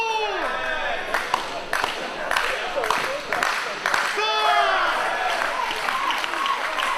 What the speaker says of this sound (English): Crowd willing on Britt Baker